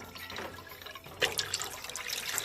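Water poured into a container to fill it, a steady trickling, splashing pour close by that grows louder and brighter partway through, with no talk over it.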